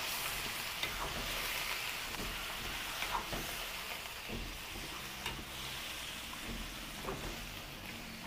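Marinated meat for adobo goes into a hot pan, with a steady crackling sizzle and scattered pops and spatter heard close up, and no voices.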